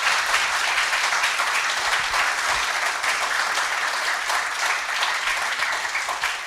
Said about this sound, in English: can we give these panelists a big round of applause for coming up here?